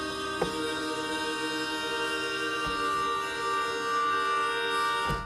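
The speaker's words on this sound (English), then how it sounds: "I'm gonna change the sampling function to tone machine, which is gonna change it into basically a resynthesis algorithm. Now I can play chords with it." A cymbal sample resynthesized into pitched tones is played as sustained chords on a synth, producing a steady droning, siren-like harmonic pad with faint breaks where the chords change.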